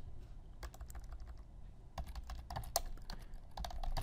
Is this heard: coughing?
no